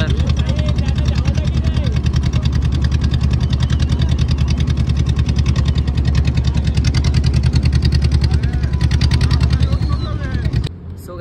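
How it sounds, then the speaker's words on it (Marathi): Many boats gathered for the Bahirinath arrival festival run their engines, a loud, steady, throbbing motor drone close by that holds for several seconds before cutting off near the end, with talk mixed in. "या बघा कशा बोटी सगळ्यात जमल्यात देवाच्या दर्शनासाठी चालल्यात"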